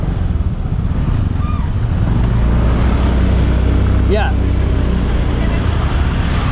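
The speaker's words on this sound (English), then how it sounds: "Just look at this traffic" Dense road traffic of cars and scooters in Bali: a steady, loud engine rumble from passing vehicles, with a brief horn-like tone in the middle and a short word spoken over it.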